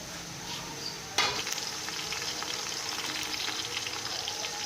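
Steady sizzling of browned chicken pulao ingredients frying in a pan, with a sudden sharp hiss as ginger garlic paste hits the hot oil, then continuous crackle.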